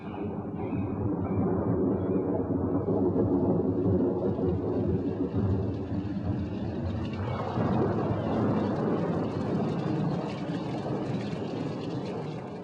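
A steady, roaring wind rushes through for the whole stretch, broad and loud, with gusts swelling and easing but no clear pauses.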